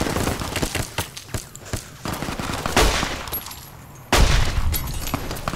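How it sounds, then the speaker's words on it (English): Enemy gunfire in Fallout: New Vegas, with repeated sharp shots and bursts throughout, some rapid like a fusillade, loud and close with a heavy burst near the end. "These guys are just shooting at me."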